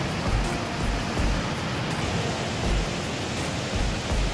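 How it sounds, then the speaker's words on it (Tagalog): Strong wind roars across an overgrown, abandoned garden lot in a continuous loud rush with gusts swelling every second or so, no voices present. "grabe talaga ang hangin"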